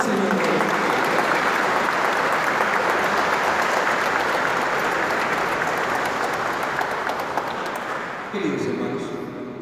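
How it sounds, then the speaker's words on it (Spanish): Sustained applause from a church congregation during a Eucharist service marking the Colombian National Police anniversary, steady and full for most of the stretch, then tapering as a voice begins speaking near the end. "Un aplauso al Señor"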